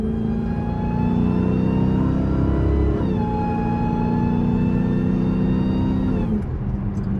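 A hoodless 1000-horsepower Dodge Charger Demon 170 roars under hard acceleration, its loud, steady engine note climbing in pitch, easing at a gear change near three seconds, then pulling again before fading off at the end.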